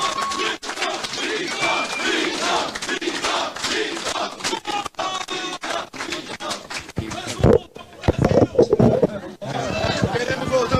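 A crowd at a Jair Bolsonaro meeting in Hamamatsu, Japan, cheers and chants loudly in unison. Rhythmic shouted voices blend with crowd hubbub and a few louder bursts toward the end.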